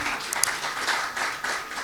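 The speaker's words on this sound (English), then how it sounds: "Please, if you want to clap," Audience clapping at a law panel session in a conference room, a steady scattered round of handclaps at moderate distance with a few sharper close claps, and faint talk underneath.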